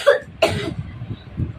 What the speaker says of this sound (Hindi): थोड़ी खांसी हो गई है क्योंकि कल इसको फीवर भी आ गया था